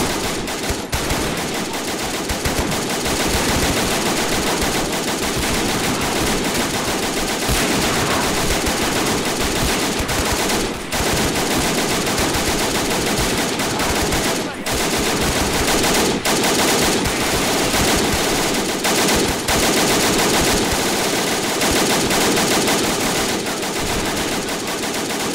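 Bren machine gun fire in the Men of War: Assault Squad 2 video game, a continuous, loud, dense battle din of overlapping automatic bursts lasting throughout with no talking.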